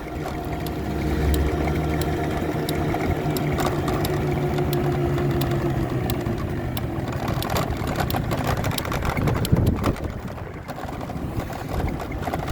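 A Honda Dio AF34 scooter engine drones steadily throughout the ride, with a constant hum and rushing wind noise.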